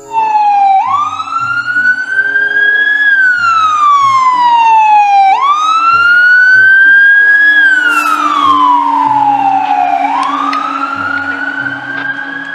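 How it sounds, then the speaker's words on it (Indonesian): A toy fire engine's electronic siren wails loudly and close, rising and falling in long sweeping cycles of about two and a half seconds, alone with no speech. "ini mobil pemadam kebakaran"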